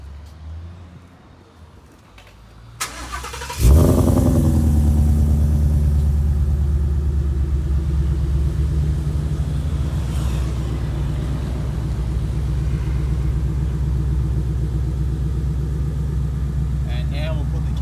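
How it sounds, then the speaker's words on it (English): A 2015-17 Ford Mustang with a full exhaust system cranks and fires into a loud, deep burble. After a quiet lead-in it settles into a steady rumbling idle close by for the remaining seconds. "So we'll start this car up and see what it sounds like with the full exhaust system on it."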